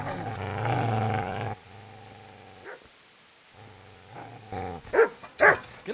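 A dog barks and growls in the Kingdom Come: Deliverance game, a run of loud close barking followed by pauses, a snarl and a few sharp barks, with no speech.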